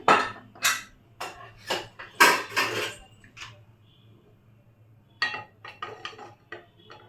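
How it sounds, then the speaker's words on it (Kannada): A pressure cooker is set down on a gas stove in a home kitchen, giving a close series of sharp metallic clanks and clatters in two bursts separated by a quiet pause. "ಗ್ಯಾಸ್ ಹಂಚ್ಕೊಂಡು ಕುಕ್ಕರನ್ನು ಇಟ್ಕೊಳ್ಳೋಣ"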